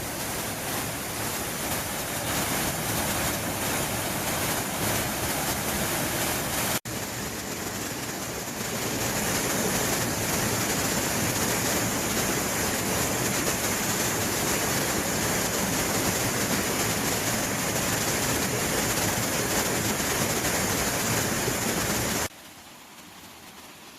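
Mountain stream water rushes in a steady, dense roar about 15 to 20 metres upstream of a waterfall, close and continuous, then drops quieter near the end, with no voices.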